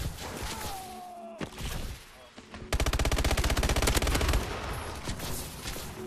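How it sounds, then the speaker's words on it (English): Rapid gunfire from a burst-fire gun in Call of Duty Advanced Warfare: a loud, dense stretch of quickly repeated shots in the middle, with quieter game sounds before and after. "It's a three-hit burst fire gun, really?"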